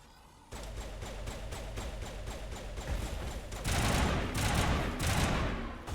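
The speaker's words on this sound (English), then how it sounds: "my assault rifle's real good" Sustained assault rifle fire in the video game Mass Effect: rapid, even bursts of shots loud and close, growing denser and heavier toward the end, with no voices.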